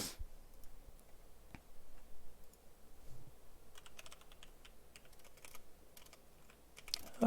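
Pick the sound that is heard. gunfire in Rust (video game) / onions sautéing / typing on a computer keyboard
typing on a computer keyboard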